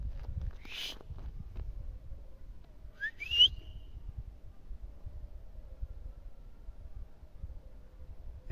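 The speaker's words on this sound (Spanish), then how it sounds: "Y el chiflío." A shepherd out on a rural trail whistles twice, two sharp rising whistles a few seconds apart, heard at a moderate distance over a quiet outdoor background with faint low rumble.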